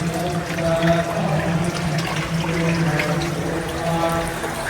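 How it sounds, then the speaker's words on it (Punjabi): Spring water pours down at the Panja Sahib shrine in a steady, continuous rush, with a faint low hum beneath it and no talking. "ਇਹ ਉੱਤੋਂ ਝਰਨੇ ਤੋਂ ਪਾਣੀ ਆਉਂਦਾ ਆ"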